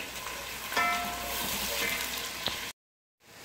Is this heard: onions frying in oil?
yes